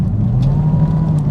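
A 2019 Chevrolet Camaro ZL1, rear-wheel drive, with its engine on the throttle: a loud, close, deep steady drone with a rough rumbling texture, heard alone and without talk.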